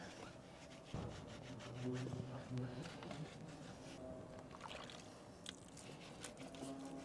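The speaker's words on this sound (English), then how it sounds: "we just use the brush to get into the barrel of the wheels and behind the spokes to remove the brake dust" A brush scrubs the wet barrels and spokes of car wheels to lift brake dust, making a soft, repeated rubbing and swishing at close range.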